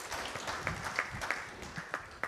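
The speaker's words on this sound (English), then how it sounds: "I think great round of applause for all the dignitaries present here." An audience at a flower show claps for dignitaries on the dais in a light, scattered patter with a few sharper claps standing out, fairly faint and at a distance.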